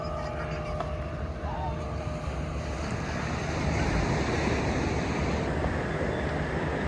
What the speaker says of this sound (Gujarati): આ છે નાગવા બીચનો વ્યૂ. મોજા ઉછળે છે.